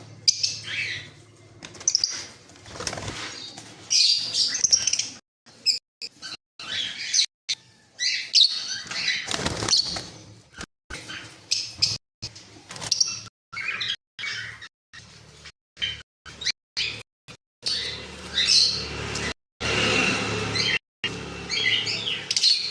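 Fischer's lovebirds, including a blue Fischer, kept in a bird shop for sale, chirping and squawking close by in rapid, shrill overlapping bursts with brief gaps throughout.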